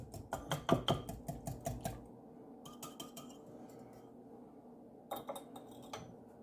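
Melted butter mixed into batter in a bowl, with rapid clinking and tapping strokes of a utensil against the bowl in quick bursts, near and fairly quiet, with pauses between.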